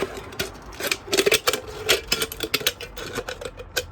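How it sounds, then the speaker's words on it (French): Rapid, crisp clicking snips of scissors biting through a thin metal bottle cap, coming in quick irregular bursts, close and fairly loud. "On incline un peu les ciseaux et la lame va rentrer très facilement. On enfonce jusqu'au bout et on va couper maintenant"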